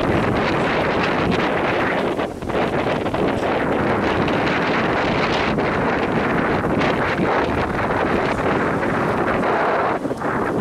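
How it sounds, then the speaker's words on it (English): Strong wind on a beach at Vagator buffets the microphone in a loud, continuous roar with gusty rumble and no voices. "A lot of wind, windy day,"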